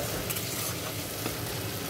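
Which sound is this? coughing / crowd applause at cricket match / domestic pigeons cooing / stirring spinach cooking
stirring spinach cooking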